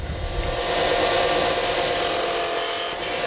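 A skew chisel cuts a cove into a wooden spindle on a lathe, giving a steady close rasping hiss that runs continuously, with no talk.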